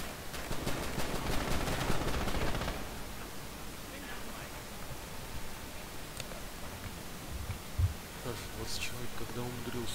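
Bursts of automatic gunfire in a multiplayer shooter match on a grain elevator map, rattling rapidly for the first few seconds and then fading to sparse, distant shots under steady game ambience, with players talking throughout.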